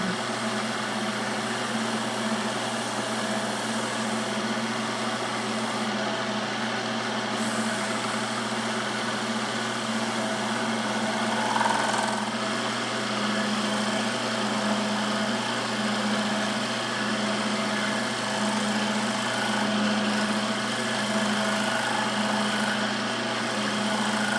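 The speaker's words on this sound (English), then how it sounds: "let's just turn the lathe on and buff it out" A wood lathe runs steadily while an elm bowl is buffed, giving a constant, moderate motor hum with a high whine that stays even for the whole stretch, with no talk.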